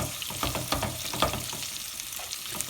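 Chopped onion goes into a hot pan of frying spices and ginger garlic paste for a chicken curry, sizzling loudly at first with several scraping stirs, then settling into a steady softer fry.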